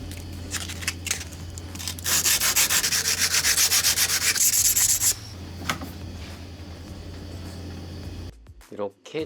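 A knife is sanded and rounded on a grinding machine, a low motor hum beneath harsh, rapid rasping bursts of metal on abrasive that stop and start, with someone speaking briefly.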